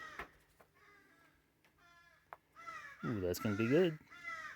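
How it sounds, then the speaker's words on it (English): Crows caw repeatedly outdoors near a foraging and fishing camp, several harsh calls at varying distances, loudest toward the end, with a person briefly speaking over them. "the crows seem to be really interested in this"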